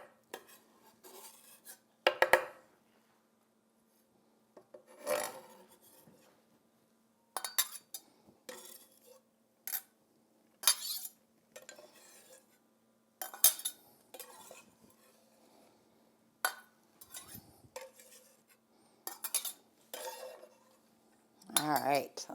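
Chopped carrot and vegetables scooped from a cutting board into a bowl, with scattered scrapes, taps and clinks of utensils against the board and dish, in short bursts separated by quiet pauses.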